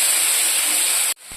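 Spice paste is added to hot oil for a Bengali hilsa and brinjal curry and sizzles with a loud, sharp hiss. The sizzle lasts about a second, then cuts off abruptly.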